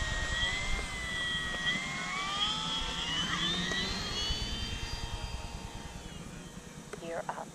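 FMS F4U Corsair RC model airplane taking off, a steady electric motor whine with rising and shifting tones held loud throughout, with wind and handling noise beneath.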